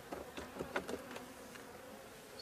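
Honey bees buzz around frames being lifted from a first-year swarm hive during a honey harvest, a soft, fairly faint drone with a few closer passes rising and fading over a low background.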